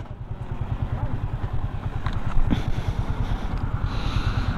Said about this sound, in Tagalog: Parang sininok yung motor or na-flat.